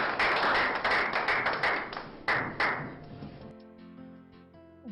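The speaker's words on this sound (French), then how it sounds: "Vos applaudissements, s'il vous plaît." A crowd of guests at a wedding claps loudly and densely, close by for about three seconds, and the applause thins out into a few scattered claps.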